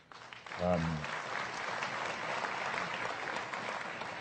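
Audience applause at a 2007 Freedom From Religion Foundation lecture, a sudden burst of clapping that swells quickly and then holds steady and dense to the end, with a brief voice heard at the very start.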